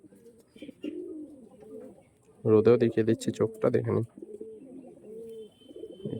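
Pigeons coo in soft, repeated bursts close by, with someone talking over and between the calls.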